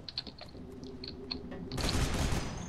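Rapid bursts of gunfire in the shooter game Loadout, quiet, crisp shots at first that swell into a louder sustained fusillade near the end, no voices.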